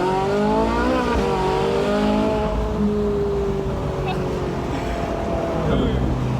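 A Ferrari 458 Spider driving with the top down, its engine droning steadily with rising and falling pitch sweeps as it pulls along, loud and close, with wind noise and people talking over it.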